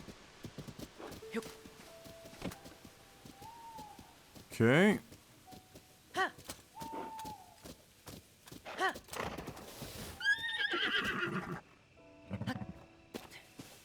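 A horse in Zelda: Tears of the Kingdom gives several loud, close whinnies and snorts amid scattered clip-clopping hooves, with a person briefly talking.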